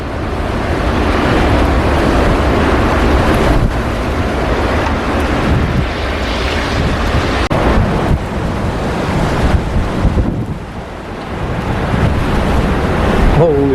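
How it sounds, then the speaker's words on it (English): Strong blizzard wind roars steadily and loudly outdoors in a driveway, buffeting the microphone as a continuous broadband rush with gusts and a brief lull near the end; no talking. "It's a windy one."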